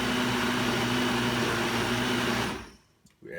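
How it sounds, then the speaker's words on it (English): A blender whirs steadily at high speed, mixing purple and green kale, Brussels sprouts and other vegetables for a bisque, then cuts off abruptly, leaving brief quiet handling noises. "So in order not to overwork the blender"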